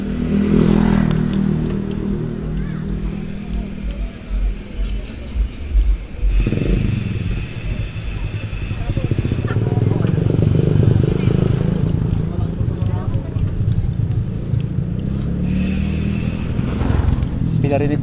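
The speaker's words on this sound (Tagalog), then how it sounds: "Pinarinig ko talaga yung ingay ng bike." Motorbike engine droning steadily during a relaxed ride on a wide-tyred bike, with rumble and clatter close by, and voices talking over it throughout.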